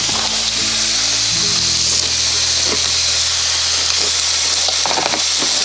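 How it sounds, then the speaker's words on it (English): Meat browning in a little oil in a fry pan, a steady loud sizzle and hiss running throughout, close up with no talking. "So a little bit of oil in your fry pan, and then you're going to brown off all of your meat and basically cook it."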